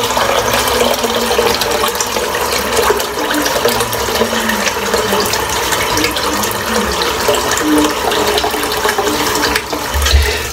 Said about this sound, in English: Wet my hands.